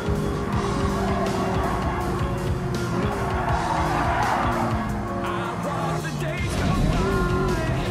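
Tires squealing as a car drifts in Gran Turismo 7, a loud continuous screech over a revving engine, the pitch bending through the slide while voices talk over it.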